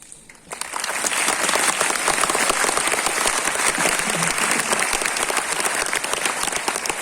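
A crowd at a Vedic physicians' gathering in Vrindavan bursts into loud applause after a brief quiet moment, with dense clapping that holds steady to the end.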